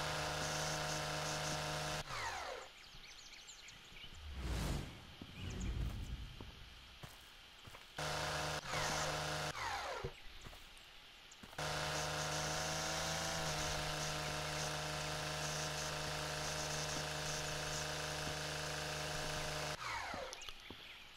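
Lawnmower engine in the video game Lawn Mowing Simulator, a loud steady motor hum that keeps cutting out and restarting with rough mechanical bursts in the middle, then holds a long even drone.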